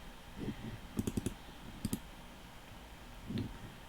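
A computer mouse clicks a few times while working in Photoshop, sharp quiet taps in a quick cluster of three and a couple of isolated clicks against a soft room hiss.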